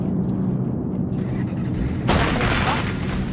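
A bomb goes off in a Roblox game, a heavy boom rising out of a dense, continuous rumble of game noise partway through, loud and close with no pause after.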